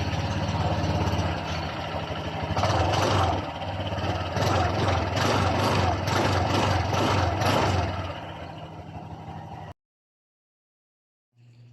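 Honda Click 125 scooter engine running through its muffler, a steady close mechanical drone with some rising throttle bursts for about ten seconds before cutting to silence, with a brief low hum at the end.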